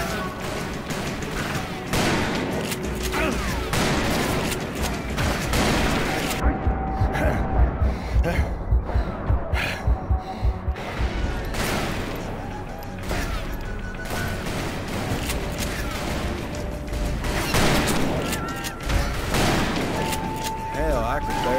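Gunfire in a Call of Juarez Bound in Blood shootout rings out in repeated bursts across the whole stretch, with a rapid run of sharp shots in the middle and voices speaking at times in between.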